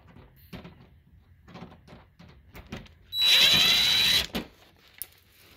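A power drill backs out a Phillips head screw under the front bumper of a Suzuki Kizashi, one loud, close whir lasting about a second, with light handling knocks before and after.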